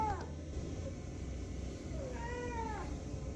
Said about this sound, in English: I also have a cat.